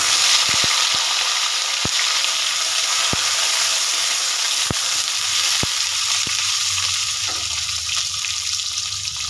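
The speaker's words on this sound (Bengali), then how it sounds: "তেল কিন্তু গরম হয়ে গেছে এবার দিয়ে দেবো আমি কেটে রাখা বেগুন" Cut eggplant slices sizzle and fry steadily in hot oil in a pan, a loud continuous crackle punctuated by a few sharp clicks, with no talking.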